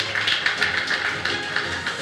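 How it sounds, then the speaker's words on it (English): Sustained applause from a conference audience, dense clapping that stays steady and fairly loud throughout with no voices over it. "Another beautiful round of applause"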